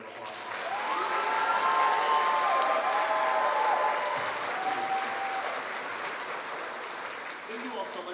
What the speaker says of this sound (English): Go ahead and give them another round of applause